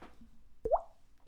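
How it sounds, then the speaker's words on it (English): A single close mouth pop made by flicking a cheek with a finger, a short wet plop that bends slightly upward in pitch, heard alone against a quiet background. "That noise is made by a flick of the cheek"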